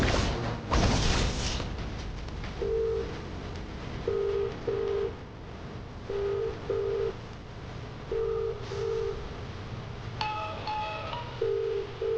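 A telephone ringback tone repeats in short paired bursts with pauses, from a call being placed during a Tamil TV serial scene; it rings fairly clearly over a faint background hum, with no talk.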